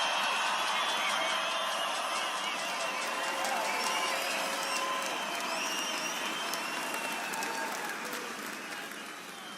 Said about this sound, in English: I think we all should give them a tremendous round of applause